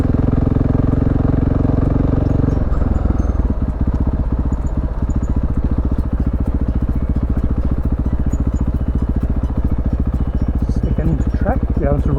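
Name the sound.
dirt bike riding past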